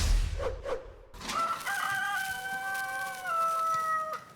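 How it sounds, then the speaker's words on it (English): Chickens on a farm, a few soft clucks followed by a rooster's long, clear cock-a-doodle-doo crowing close by, with faint outdoor background. "Right now, we just came down to the chickens."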